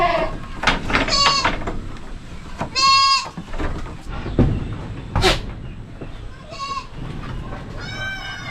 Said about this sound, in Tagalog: Ito yung kambing natin